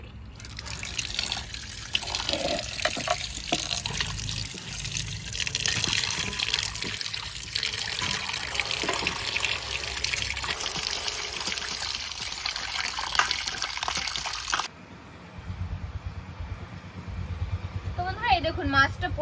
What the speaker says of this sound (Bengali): মাছগুলো সব কেটে নিয়েছি, এখন যাই পরিষ্কার করে ধুয়ে নিয়ে আসি